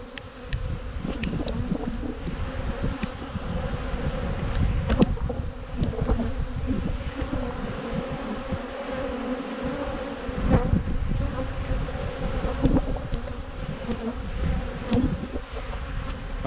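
A dense, steady hum of many honeybees buzzing close by at a hive, with individual insects zipping past now and then.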